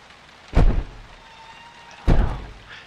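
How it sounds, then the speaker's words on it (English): Two heavy bangs of a bathroom door in the horror game P.T., spaced about one and a half seconds apart, loud and close against a quiet, faintly hissing background. "Yes, the door. It's a bathroom door."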